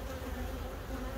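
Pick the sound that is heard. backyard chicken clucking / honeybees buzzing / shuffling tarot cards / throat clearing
honeybees buzzing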